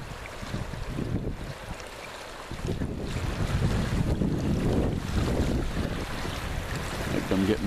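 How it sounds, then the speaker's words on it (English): Stiff breeze blowing down a river near an eagle nest, buffeting the microphone with steady low rumbling wind noise, strongest in the second half, with water movement beneath. "Good stiff breeze blowing down the river."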